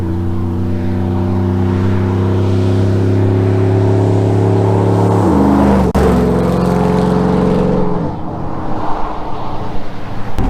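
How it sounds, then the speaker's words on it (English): A car fitted with a Speed Engineering true dual axle dump exhaust revs hard and loud, the engine note holding high, then dropping in pitch and falling away to a rough idle, heard close up with no talking. "The Speed Engineering Banshee exhaust system."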